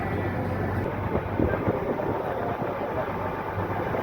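A boat engine runs at full speed out on the sea, a steady, unbroken mechanical drone that stays loud and constant throughout.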